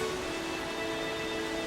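Rain falling endlessly as an audio drama effect, a steady dense hiss of rainfall at even level throughout, with no voices.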